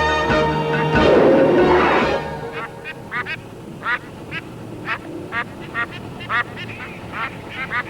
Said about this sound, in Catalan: Aquests ànecs em fan perdre la paciència.